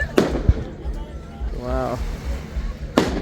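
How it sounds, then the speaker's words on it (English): Fireworks over Vancouver burst with two sharp, loud booms at the start and end and a softer pop between them, heard from outdoors across the water, with a person exclaiming in between. "first time to see fireworks?"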